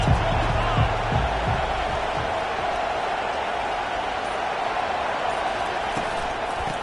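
Stadium crowd cheering in the Madden 23 football video game, a steady wash of crowd roar and noise throughout, with faint thumps early on and a commentator's voice underneath.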